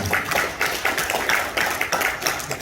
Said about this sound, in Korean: 박수 한번 주시면 고맙겠습니다